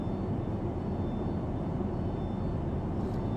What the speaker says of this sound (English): that high-pitched whine, hear it going in the background